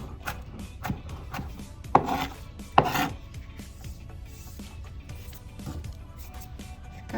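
A knife chops onion on a cutting board during a bibimbap cooking class, giving a series of light irregular taps with two sharper, louder strikes in close succession, heard fairly near in an otherwise quiet room.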